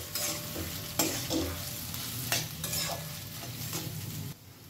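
Boiled grated potato frying in a pan with spices, a steady sizzle broken by several scraping stirs of a spatula, close and moderately loud, with no voices.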